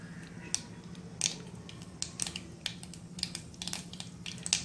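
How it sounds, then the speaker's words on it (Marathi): Mustard seeds pop and crackle in hot oil, quick irregular snaps over a low steady hum, fairly faint. "राईचा आवाज पण आलेला आहे"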